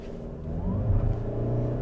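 A 2022 Toyota RAV4 Hybrid with all-wheel drive pulls away from a standstill in sport mode after brake torquing, giving a steady, close, rising engine and motor drone with low rumble and no talking.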